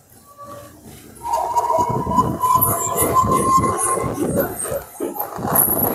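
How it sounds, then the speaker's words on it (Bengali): A Siuri–Sealdah local train rumbles past at a station near Dakshineswar, with a steady rolling roar, a sustained tonal hum and rhythmic wheel clatter. Faint background voices can be heard. "এই যে ট্রেনটা দেখছেন, এটা হচ্ছে সিউড়ি শিয়ালদা লোকাল।"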